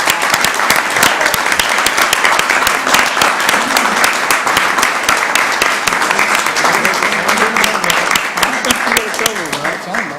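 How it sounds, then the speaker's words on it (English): Sustained applause from an audience at a city council meeting, dense, loud and even for the full stretch, with voices mixed faintly into the clapping. "let's give him a round of applause"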